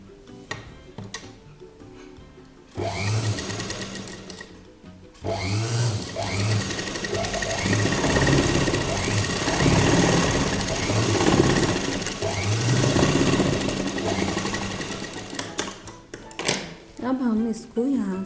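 A sewing machine runs in long steady bursts, stitching fabric with elastic in a fast close mechanical whir, with pauses between runs and someone talking over and between the stitching.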